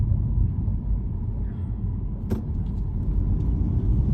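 Road traffic rumbles steadily as a car drives, a loud continuous low drone with one sharp click partway through and no talk.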